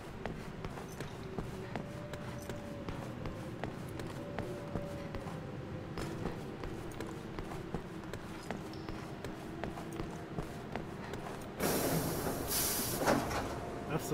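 A train rushes past in the Resident Evil 6 video game, a long rumbling, hissing roar with a sharp louder burst near the end, heard in a game stream with no voices.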